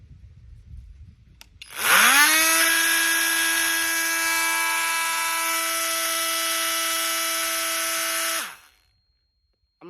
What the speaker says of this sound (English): Speed setting all the way up. Watch this blade.